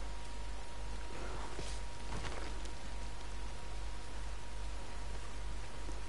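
Heavy rain pours in Red Dead Redemption 2, a constant broad hiss with scattered louder drop and splash bursts, near and steady throughout, with no speech over it.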